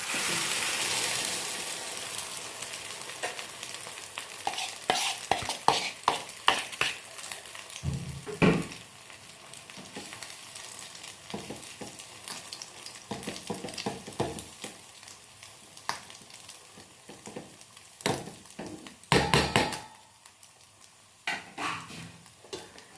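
Batter sizzles steadily in hot sesame oil, broken by sharp clinks and scrapes of a utensil against the pan.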